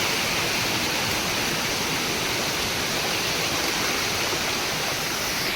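Waterfall on a trek, a loud, continuous rushing roar of falling water, steady and close throughout with no break.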